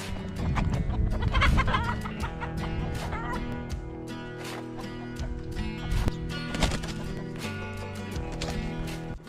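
Chickens cluck and squawk in a busy chorus, with scattered sharp calls over a steady background of birds and farmyard noise.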